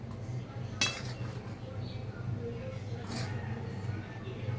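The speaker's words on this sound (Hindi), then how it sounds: "इस तरह के चम्मच में भर भर के हमें 7 बार डाल देना है" A spoon scoops custard powder and clinks against a bowl of milk, one sharp metallic tap standing out over low background hum, with softer scraping clinks following.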